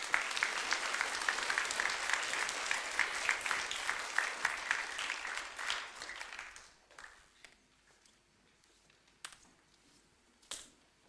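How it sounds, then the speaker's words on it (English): Round of applause from students and staff at a school assembly at Casebrook Intermediate, steady and dense for about six seconds, then fading to a few scattered claps. "Please give them a round of applause."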